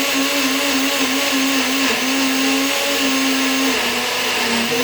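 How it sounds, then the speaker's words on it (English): A kitchen blender whirs loudly and continuously while blitzing a peanut butter sauce for a tofu dish. The motor pitch wavers and dips slightly as the thick mixture churns, with no talking. "So stick it in the blender."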